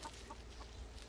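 Hens clucking in short, soft bursts near a backyard coop with shade covers over the cages on a hot summer day, a few faint calls spread across a brief moment.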